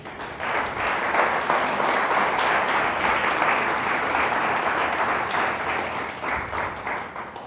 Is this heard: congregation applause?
yes